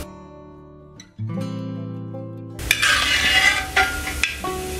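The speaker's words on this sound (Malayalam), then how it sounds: "കണ്ടോ, കേട്ടോ പൊട്ടുന്ന സൗണ്ട്" Grated coconut roasting in hot oil for kappa biryani crackles and pops in sharp, irregular bursts over a steady sizzle, loud and close, after a quieter stretch of ringing, tonal sound.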